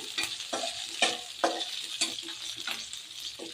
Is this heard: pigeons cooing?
no